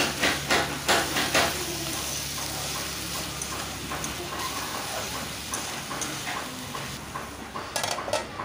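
Metal spatula scraping and clanking in a pan as chopped banana flower is stirred with cumin powder, turmeric and salt, a steady run of close scrapes and knocks with faint sizzling beneath.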